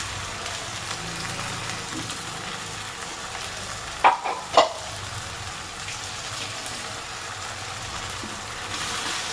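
Ginger garlic paste frying in a pan, a steady close sizzle throughout, broken near the middle by a few sharp clinks of a utensil against the pan.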